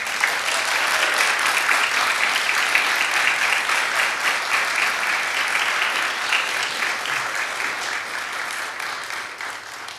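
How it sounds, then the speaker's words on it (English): Graduates at a college scholars cording ceremony give their thesis directors a steady round of applause, dense and even throughout, a large indoor crowd clapping at moderate distance and slowly tapering. "graduates, I invite you to give a round of applause to your thesis director"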